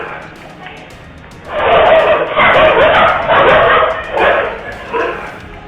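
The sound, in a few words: street dogs barking while chasing a boy, CCTV footage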